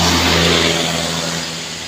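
A truck labors up the steep Kedabuhan incline on the route to Sinabang, its engine revving loud and steady with a deep low drone close by, holding throttle without a break.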